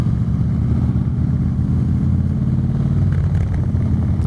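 A motorcycle engine runs steadily and loud at close range during a rider training lesson, its low rumble shifting slightly as the clutch is let out to pull away.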